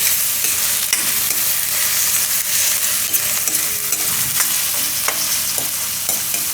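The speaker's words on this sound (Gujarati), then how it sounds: "આને થોડીક વાર પાકવા દઈશું આપણે વટાણા અને ગાજરને." Peas and carrots fry in hot oil for a winter-style Maggi, giving a loud, continuous sizzle crackle with scattered sharp stirring clicks and scrapes and no voices.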